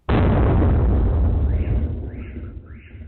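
One loud explosive boom bursts out, followed by a rolling rumble that fades over a few seconds.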